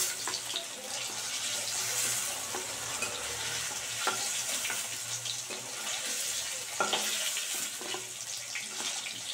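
Paneer cubes fry in hot oil with a steady hissing sizzle, broken by occasional scrapes and clinks as pieces are lifted out of the pan.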